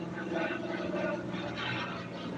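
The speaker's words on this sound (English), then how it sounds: "I'm gonna let this plane go by first." An airplane flies by overhead, giving a steady, broad engine roar that fills the whole clip at moderate loudness, with no clear rise or fade.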